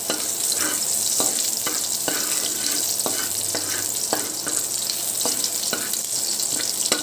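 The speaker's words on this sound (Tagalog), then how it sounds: "Kasi lang itong lutuin yung bawang bago natin lagay yung sibuyas" Garlic and chili fry in a pan for pork adobo, with a loud, continuous hiss and regular spatula scrapes repeating throughout and no talk.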